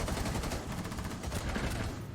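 Rapid gunfire in Rainbow Six Siege, a dense continuous burst of fast shots filling the whole stretch, loud and close with a busy, rattling texture and no talk.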